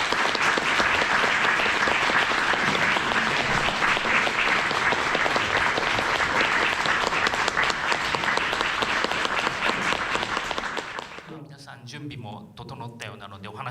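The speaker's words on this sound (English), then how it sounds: "Please welcome them with a warm round of applause." A warm round of audience applause at an animation symposium as three guests walk on stage, loud and dense for about eleven seconds before quickly dying away into quieter room sound with a voice starting.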